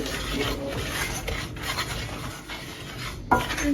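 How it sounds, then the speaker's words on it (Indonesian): Sugar and tea powder stirred together in a pot, giving a steady dry scraping and rubbing with a spoon against the pot, continuous throughout with one brighter clink near the end. "Aduk hingga tercampur supaya tidak bergumpal pada saat diberi cairan."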